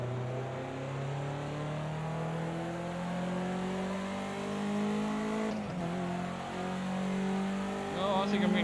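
A race car's engine drones steadily uphill in the wet, its pitch sagging slowly as it loses power, loud and continuous with a brief disturbance midway and a rising whine near the end.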